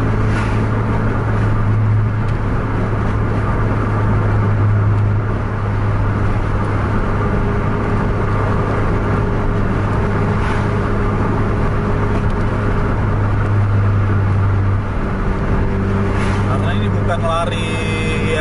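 A Scania bus cruises at around 90 km/h, its engine droning steadily with a low constant hum and road and wind noise throughout, while people talk over it.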